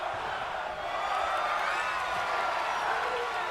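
A wrestling arena crowd cheers and roars at a match, keeping up a dense, sustained wash of voices with whoops rising out of it.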